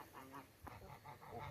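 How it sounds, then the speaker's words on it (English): Geese on a small hobby farm give a brief burst of nasal honks, several quick calls close together and fairly near, with outdoor background noise underneath. "Geese."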